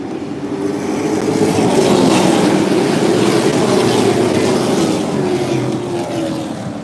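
UARA Sportsman Series race cars roar off at the green flag at the Freedom Factory, a loud, sustained wall of engine noise from the pack that swells and holds without any talk.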